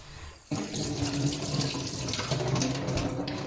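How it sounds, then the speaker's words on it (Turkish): Tap water gushes steadily into a kitchen sink as fresh strawberries are rinsed for jam, a loud continuous splashing rush that starts abruptly and runs on alone with no talking. "yıkayacağız. Yıkayalım."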